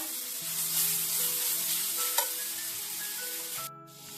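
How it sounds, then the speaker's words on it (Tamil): Beetroot sautéing in ghee for a halwa, an even close sizzle with soft stirring scrapes, one sharp clink near the end, and no voices. "அதே நெய்யில் பீட்ரூட்டை போட்டு வதக்கிடலாம்"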